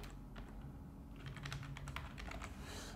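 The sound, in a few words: typing on a computer keyboard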